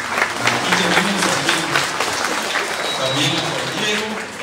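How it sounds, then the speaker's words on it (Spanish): A church congregation applauds Jade during a Mass for All Saints' Day, steady mixed clapping filling the room for several seconds while voices murmur and talk over it. "Fuerte aplauso a Jade"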